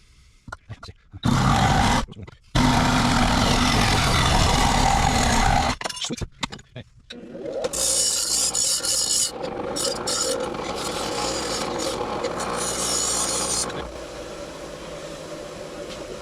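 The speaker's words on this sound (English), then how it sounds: "Sawzall time." Sawzall reciprocating saw cutting through a car's rusted, holed exhaust pipe, a loud, harsh rasping roar with short pauses early on, then a steadier, lighter grinding as the cut continues.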